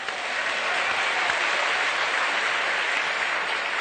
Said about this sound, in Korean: 우리 하나님 아버지께 감사 박수합시다.